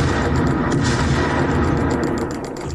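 Battleship Ohio firing a broadside in a naval video game, a heavy rumbling boom of big guns rolling on for a couple of seconds, loud and close, with rapid crackling shots layered in.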